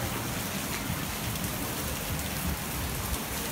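Heavy September rain pours steadily in a dense, even hiss in Odesa during flooding, close by and constant, with no voices.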